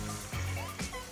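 Water sloshing and splashing into a cooking pot in a couple of short pours, close by, over a soft hiss.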